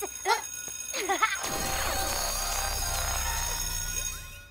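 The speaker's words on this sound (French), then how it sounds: "me battre contre l'alarme à incendie qui est devenue incontrôlable" A malfunctioning fire alarm in a cartoon rings and warbles in a loud, wavering electronic wail that swoops up and down, following a few brief vocal sounds at the start.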